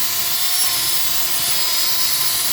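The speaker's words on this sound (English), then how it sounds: "We're going to take the drill" A power drill runs at steady high speed inside the groove of a front wheel hub bearing on a 2008 Nissan Maxima, a close, continuous whine with a bright sustained tone and no pauses or talk.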